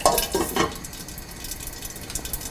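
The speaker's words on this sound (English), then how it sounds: "In a small frying pan, heat coconut oil, then add the mustard seeds. When it starts to splutter, add fenugreek seeds and close the pan with the lid." Mustard and fenugreek seeds splutter in hot coconut oil in a small frying pan, a busy crackle of pops that is loudest at the start, then settles into a steady, closer fizz.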